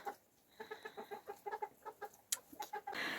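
Chickens on a farm cluck in a quick, irregular series of short, close calls, a dozen or more pulses in a few seconds, with a brief rustle at the end.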